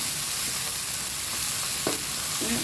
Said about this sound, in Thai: ผัดให้มันหอมก่อน